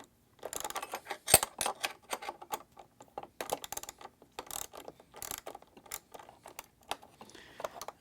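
Ratchet with a 1/2 inch socket loosening a bolt on a DIY solar generator, quick clicking pawl bursts in irregular runs, close and crisp, with brief pauses between strokes and no talking.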